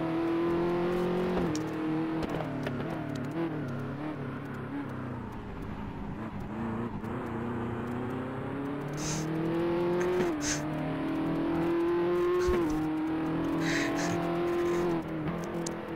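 A heavy race car engine in the Race Pro racing game drones steadily and loudly throughout, its pitch rising and dipping with gear changes and revs, with brief higher-pitched bursts partway through.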